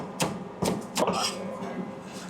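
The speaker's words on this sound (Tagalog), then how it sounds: "Chop naman natin ngayon yung chicken liver. Chop lang din natin to ng maliliit." A knife chops chicken liver into small pieces on a cutting board for Kapampangan pork sisig, three distinct close thuds in quick succession followed by quieter handling noise.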